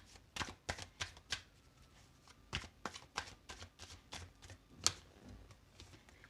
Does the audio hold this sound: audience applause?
no